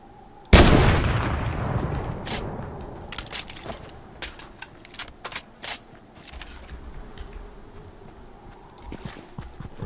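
Gunfire in the Fortnite video game opens with one sharp, loud blast whose echo fades slowly, then a string of quieter, irregular shots and clicks follows with no talk.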